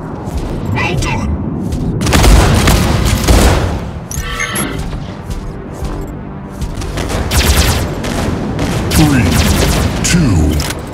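Mech gunfire and explosions from the mobile game Mech Arena fill the scene with continuous rattling fusillades, heavy booms and thuds, with a game voice announcing under the battle noise.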